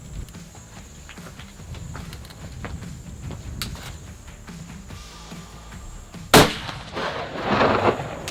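A muzzleloader firing a 250 grain ballistic bullet outdoors, one loud, sharp report about two-thirds of the way in, then a rushing, noisy tail that swells again, after quiet ambient rustling.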